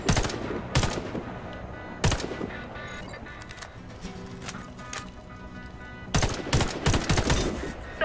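Gunfire at practice targets in Warface, loud scattered shots and quick rapid bursts at the start and end with a steady background of game ambience between them.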